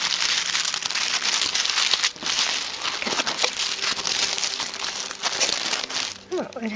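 Blue tissue paper crinkles and rustles up close as a subscription box is unpacked, busy crackling bursts continuing while someone talks over them.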